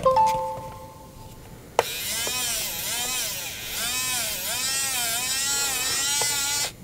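A Vinyl Express cutter's small electric motor, lacking torque and driven from a 16-year-old laptop, whirs on after a click, with a wavering buzzy whine that rises and dips steadily, fairly close; a brief electronic tone sounds beforehand.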